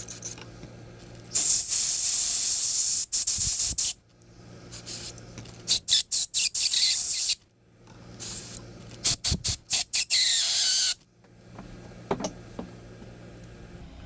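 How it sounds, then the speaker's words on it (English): Brake cleaner and compressed air blast in loud, sharp hissing bursts, some long and some short and rapid, while working on a 2017 KTM XC250 dirt bike engine case, with quiet pauses in between. "I'm just gonna spray some brake cleaner in there and a little bit of compressed air."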